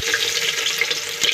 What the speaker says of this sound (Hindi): मेरा तेल भून गया है। अब देखिए इसमें मैं प्याज डाल दूंगी।